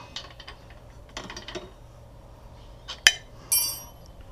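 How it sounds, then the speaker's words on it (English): A wrench turns the rear axle of an e-bike during a rear tire change, giving soft metallic ratcheting clicks and a few sharp clinks, close and fairly quiet, with no talking. "take a wrench, rotate your axle until it's the right orientation"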